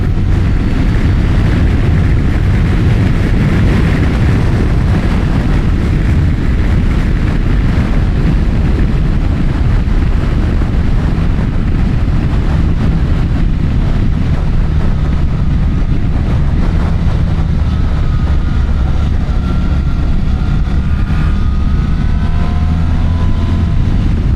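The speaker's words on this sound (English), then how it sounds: "it's not the norm that I get a chance to hear my exhaust that way" A BMW R1300RS motorcycle exhaust rumbles loudly and steadily up close while riding, a deep continuous drone with rushing wind noise over it.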